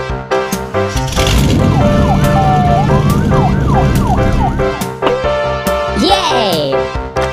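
Animated U.S. police car siren, a loud wailing tone sweeping up and down repeatedly, with bright cartoon effects around it.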